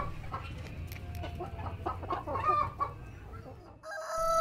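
A chicken clucks in short, low calls close by, with a crow of a rooster breaking in briefly at the end.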